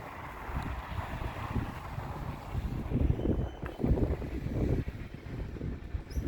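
Cold wind blows outdoors by a snowy driveway and garage on a winter morning, a rough gusting rumble buffeting the microphone, swelling and easing in uneven surges, with no voices.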